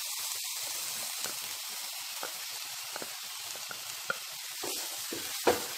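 Crushed green chillies sautéing in oil in a pan for brinjal pickle, a steady soft sizzle and hiss with occasional faint stirring clicks, no voices.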